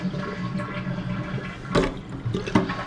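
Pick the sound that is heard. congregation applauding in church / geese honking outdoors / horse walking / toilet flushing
toilet flushing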